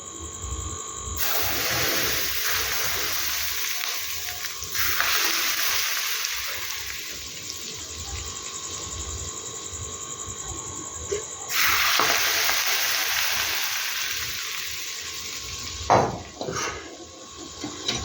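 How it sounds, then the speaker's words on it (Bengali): Hot oil is poured over a tangy, spicy pickle (tok jhal achar) in a home kitchen, giving loud hissing sizzles in surges with quieter stretches and faint background noise between them. "আমি তেলটা দিয়ে দিচ্ছি দেখো।"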